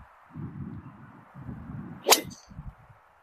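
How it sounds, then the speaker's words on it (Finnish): A single sharp crack of a driver striking a golf ball off the tee on a course at Vierumäki, heard once, loud and close, amid low outdoor rumble and shuffling. "toivotaan, että pysyy suorana lyönti"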